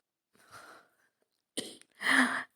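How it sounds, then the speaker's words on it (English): A few short throat-clearing bursts, one brief and soft, followed by two sharper, louder rasping clears close up. "Let me just clear my throat"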